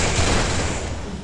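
Gunfire in the mobile battle game Free Fire: a loud, dense roar of rapid shots blends into one continuous burst, heard alone.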